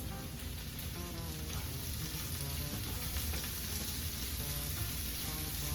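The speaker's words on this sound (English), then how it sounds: "We're gonna let those saute just for a second" Sliced peppers and onions sauté in a hot pan, giving a steady, dense crackling sizzle that holds even and continuous throughout, close and moderately loud with no talking.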